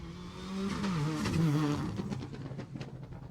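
A rally car passes at the Jersey Rally, its engine rising in pitch as it nears and fading as it goes by, loud and close with no talk over it.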